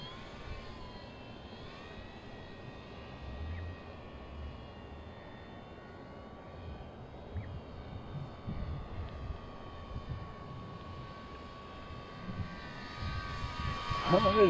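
A propeller-driven model airplane taking off and flying, a steady distant engine drone throughout with a faint whine, growing a little louder toward the end over outdoor background noise.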